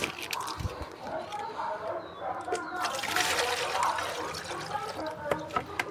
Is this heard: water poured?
yes